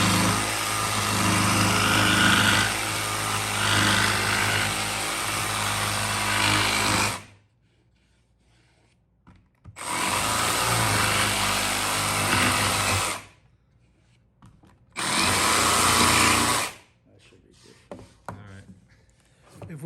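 A jigsaw cuts plywood for an electric fireplace surround in a historic home, buzzing loudly in three separate bursts of several seconds each with quiet gaps between them.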